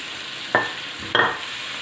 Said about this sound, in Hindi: गोश्त को हम थोड़ा सा फ्राई करेंगे प्याज और अदरक लहसुन के साथ।